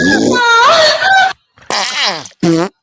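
A fart sound effect fired from a soundboard button on a podcast, a loud, drawn-out squeaky blast with a wailing pitch sweep, followed after a pause by two shorter bursts.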